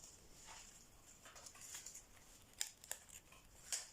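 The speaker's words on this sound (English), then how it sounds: "We're gonna snip them off" Scissors snip off paper tails while making a paper Danish Christmas tree, several quick crisp cuts close by against quiet room noise.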